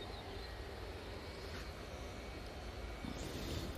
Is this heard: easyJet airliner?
yes